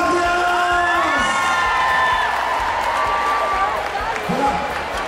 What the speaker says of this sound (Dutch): geef hem een warm applaus, Matthias!